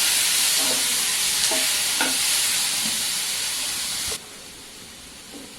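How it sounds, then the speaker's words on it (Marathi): Red chilli and about fifteen cashews sautéed in a pan for restaurant-style paneer masala give a loud, steady sizzle with a few spatula scrapes, then the sizzle abruptly drops to a quieter hiss near the end. "एक लाल मिरची आहे आणि इथे काजू आहेत 15 एक काजू टाकून छान मस्त परतून घ्यायचे"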